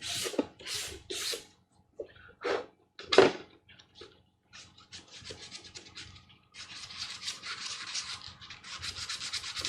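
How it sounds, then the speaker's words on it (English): Scratchy rasping strokes of sandpaper worked across the back of an armor strip, coming in short separate bursts at first, then a steadier run of rubbing toward the end, close and fairly quiet. "Make sure that the back of this strip gets sanded though."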